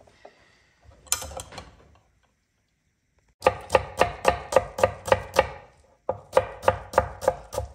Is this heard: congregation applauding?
no